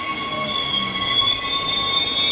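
A Cleveland train pulls into platform 8 at Boggo Road Station in Brisbane, loud and close, with sustained high-pitched wheel squeal ringing over a low rumble.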